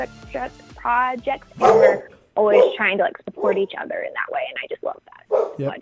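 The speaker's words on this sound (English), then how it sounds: "hopefully they don't bark like they did just now" A pet dog barks a few times in a home office, the yaps breaking in over a woman's close, steady talk.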